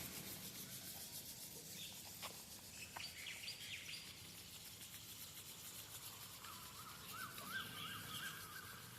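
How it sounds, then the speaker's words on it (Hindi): Steady dry rubbing of palms pressed together to warm them during a group yoga session for forest guards, a continuous soft friction hiss with faint bird chirps in the background. "इसमें घर्षण करेंगे। अच्छे से हथेलियों को गर्म करना है।"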